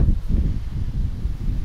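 Outdoor wind gusting into the microphone as a steady low rumble with buffeting, heard alone with no talking, in an open-air setting where someone is working on an outboard motor.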